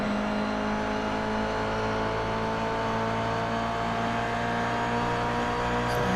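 A Toyota 86 race car's engine drones loud and steady under acceleration in iRacing at the Belle Isle street circuit, a continuous high-revving tone held throughout without pause.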